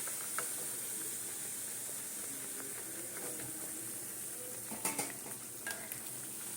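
Palm-fruit luchi frying in hot oil, a steady soft sizzle with a few light stirring and utensil clinks.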